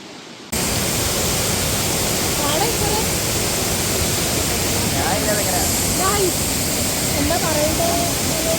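The Aruvikuzhi waterfall in Kottayam roars with loud, continuous rushing water, a broad steady wash of noise that starts abruptly and stays close, with faint voices barely rising above it.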